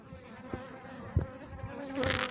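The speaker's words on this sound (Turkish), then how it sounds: "Bu gezen arılar hariç." Honeybees buzz steadily around a hive nearby, a droning hum with a few brief louder knocks and rustles.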